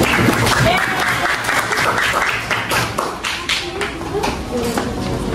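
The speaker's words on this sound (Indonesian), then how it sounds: "ya kasih tepuk tangan dong untuk Prabu." Classmates clapping for a student who answered correctly in a school lesson: a steady, close, dense patter of many hands throughout, with voices mixed in.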